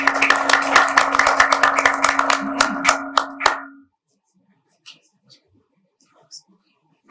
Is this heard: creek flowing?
no